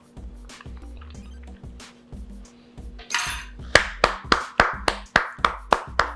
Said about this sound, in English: I'm gonna applaud.